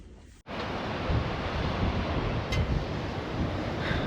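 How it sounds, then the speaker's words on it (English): Wind roars steadily at the coast on a rainy day, a loud, constant rush with heavy buffeting that sets in abruptly after a brief near-silence, with no voices. "Not the best weather day today, bit windy, a little bit of rain"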